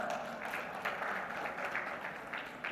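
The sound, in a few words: audience applause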